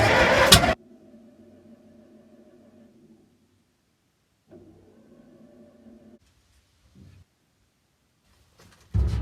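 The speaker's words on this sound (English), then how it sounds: "I'm cranking it with a screwdriver on the solenoid from back here so I can play with the choke while I try." A Link-Belt crane engine is cranked by a starter through its solenoid while the choke is worked, giving two faint, steady whirring bursts separated by a pause, with loud noise bursts at the start and end.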